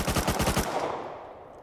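Gunfire in the survival game Rust: a rapid burst of about six automatic shots fired at a steady rhythm, then a fading echoing tail, heard at moderate distance with no speech.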